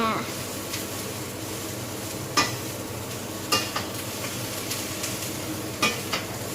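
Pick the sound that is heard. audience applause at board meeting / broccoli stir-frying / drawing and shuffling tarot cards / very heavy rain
broccoli stir-frying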